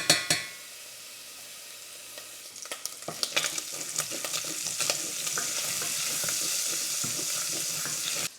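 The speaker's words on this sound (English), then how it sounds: "this sausage also doesn't have a lot of fat to it. So that's why I'm gonna add in some bacon fat to it as well." Sausage frying with added bacon fat for cheeseburger soup: a short clatter opens the clip, then steady close crackling sizzle with occasional pops and stirring scrapes, no talk.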